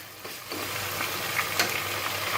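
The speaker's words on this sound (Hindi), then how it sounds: "अब हम इसमें जो है वो अदरक लहसुन का पेस्ट मिक्स करेंगे।" Ginger garlic paste frying with browning onions in a pot for deghi-style chicken, giving a steady, close sizzle with a few faint stirring scrapes throughout.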